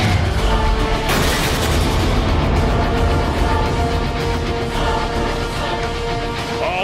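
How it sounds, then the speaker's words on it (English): A big explosion as the Autobot ship is boarded in Transformers: Fall of Cybertron, a loud booming blast followed by a heavy sustained rumble and game effects, with no talk. "they board the ship, causing this really big ass explosion, sending Bumblebee flying backwards"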